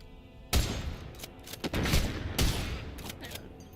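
A shotgun in the video game SULFUR fires several loud, booming blasts in an irregular sequence, each with a sharp attack and short decaying tail, close and prominent over quiet game ambience.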